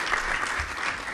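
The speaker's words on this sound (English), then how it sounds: "A round of applause to Mrs." An audience gives a round of applause at an annuities presentation, a brief, steady wash of clapping at moderate level with no pauses.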